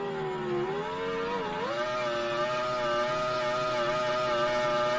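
Racing car engine from the Microprose Grand Prix video game on an Amiga 1200, a steady high whine that dips briefly then climbs and holds, loud and close without any talk.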